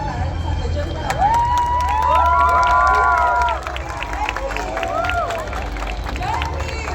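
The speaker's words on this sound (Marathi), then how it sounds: "जोरदार टाळ्यांचा गजर करावा" Large outdoor crowd cheering and shouting at a 2,000-drone night show for Dr. Babasaheb Ambedkar's 135th birth anniversary, a dense sustained roar with whistles and children's voices rising and falling throughout.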